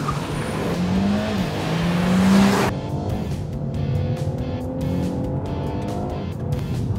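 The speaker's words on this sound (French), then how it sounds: "appuyer à fond sur l'accélérateur et dès qu'on est prêt," Renault Megane GT launching from a standstill at full throttle with launch control, a loud engine roar building with tire squeal, then rising gear-by-gear acceleration as the car pulls away.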